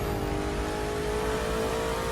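A V8 car engine in the racing game The Crew 2 holds a steady, loud, throaty drone with a faint rising whine. No one talks over it.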